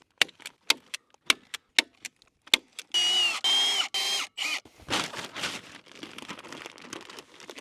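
A stapler fastens a Fastfoot fabric footing form for an ICF building, with about eight crisp, close clicks in a quick series, followed by loud crinkling and rustling of the fabric.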